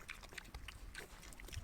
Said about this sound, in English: but right now I'm feeding the pigs.